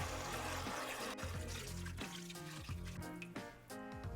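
Beef broth pours into a pot of short ribs, a faint continuous liquid gurgle and splash with shifting bubbling tones, heard alone and close by.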